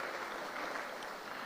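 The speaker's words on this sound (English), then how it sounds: "Come, clap, come, yes." Steady, dense clapping from an audience at a nursing school graduation ceremony in Kingston, a continuous wash of hand claps holding level throughout with no voices standing out.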